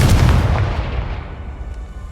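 A Confringo fire-blast spell in the Hogwarts Legacy game bursts with a heavy, booming impact, then fades through a couple of seconds of rumbling, crackling tail, loud and close, with no speech.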